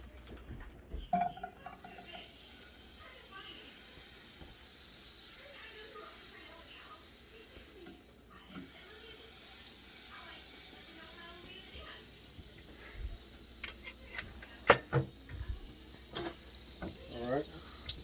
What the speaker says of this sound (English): Now that my pan's pretty hot, I'm gonna put about probably about 2 tablespoons of butter.